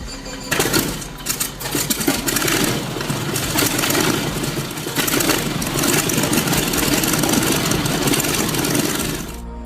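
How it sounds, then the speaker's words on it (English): A 220 horsepower Continental engine taken from a 1941 M2 tank, converted to run on propane, starts and keeps running with a loud, rough, rapidly pulsing drone, close by and steady. "equipped with a 220 horsepower Continental engine taken from a 1941 M2 tank to save money, converted to use propane fuel"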